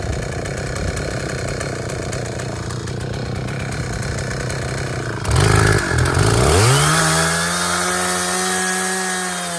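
A Stihl 066 chainsaw cuts through a large tree, its engine droning loud and close at steady speed, then revving up sharply and holding a high, straining whine.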